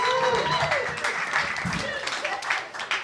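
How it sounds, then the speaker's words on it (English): Comedy show audience applauds, a dense clapping wash mixed with cheering and whooping voices, loud at first and tapering slightly while people call out over it. "Big round of applause."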